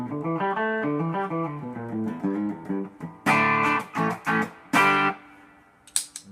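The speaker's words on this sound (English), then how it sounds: "Here's my clean signal with just the amp reverb and compressor." A clean electric guitar through amp reverb and a compressor picks a quick run of single notes, then strikes a few chords that ring out with a touch of reverb.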